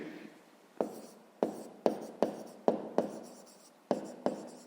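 Pen on paper writing out a math solution by hand: a series of sharp tapping strokes and scratchy scribbles in uneven bursts, close and quiet, with no talking.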